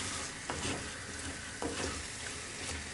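Sucuk and eggs fry in oil in a pan, a soft continuous sizzle with two or three brief stirring scrapes, close but quiet and with no talk.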